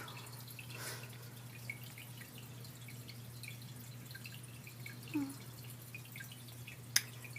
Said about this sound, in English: That's my heater doing its job. And there's my filter.